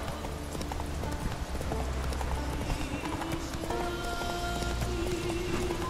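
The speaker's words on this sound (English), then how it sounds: "Run, Roach." A horse gallops in The Witcher 3 video game, its hooves beating a steady, rapid clip-clop close by throughout, over a continuous bed of background tones.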